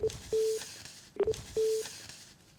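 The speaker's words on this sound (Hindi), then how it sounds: "पंडित जी का फोन कट गया है।" A phone line beeps after a call drops during a Hindi television news debate, giving short electronic tones in a repeating on-off pattern with brief gaps between them, heard alone without talk.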